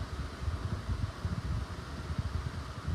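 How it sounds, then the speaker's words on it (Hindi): An electric ceiling fan runs steadily, giving a constant soft whooshing hum with a faint low rumble, with no talking heard. "अभी भी आ रहा है क्या पंखा का आवाज़?"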